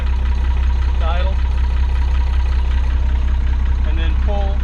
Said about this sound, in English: push the hand throttle all the way back to idle